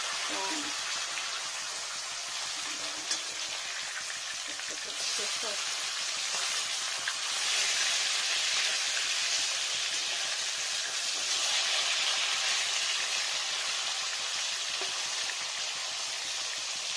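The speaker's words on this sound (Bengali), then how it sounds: "আমি সব মাছটা এভাবেই ভেজে নেব।" Pieces of rui fish frying in hot oil, giving a steady loud sizzle and crackle that swells midway and holds, with a voice speaking briefly underneath.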